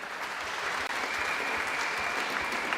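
An audience at the Scottish Squash Open 2023 finals applauds the champion, Grace Gear, with a sustained, even roar of clapping from a sizeable crowd, filling the whole moment without talk.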